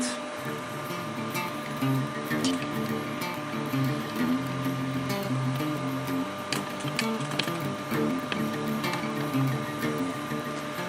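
A sewing machine stitches 5 centimeter webbing onto a rollup backpack, its needle running in rapid mechanical bursts with ticking clicks and brief pauses, up close and without talk.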